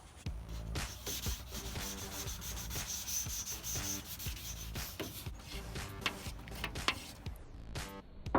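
Wet sanding the body of a Nova car before painting: continuous rhythmic rubbing strokes of sandpaper, close and fairly quiet, repeating steadily with no voices.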